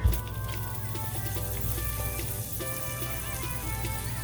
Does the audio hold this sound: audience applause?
no